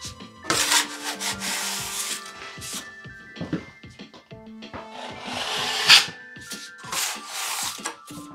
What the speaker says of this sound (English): just get a light skiff sanding over top